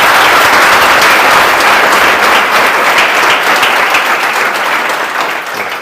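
Audience at a coaching institute event claps loudly for all of its teachers, a dense, steady burst of applause that holds for several seconds before tapering slightly.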